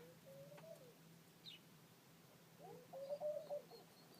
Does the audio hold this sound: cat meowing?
no